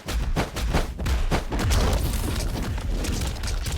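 Acidic Blaze ability firing in the game Weak Legacy 2, a loud, dense stream of rumbling blasts and crackling bursts that pulse rapidly at first, then merge into a sustained roaring wash.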